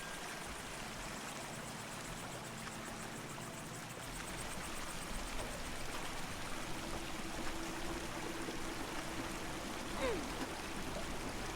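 A water wheel turning in flowing water in a dark labyrinth video game: a continuous, fairly quiet rushing stream and trickle with a low mechanical hum beneath, growing slightly fuller partway through.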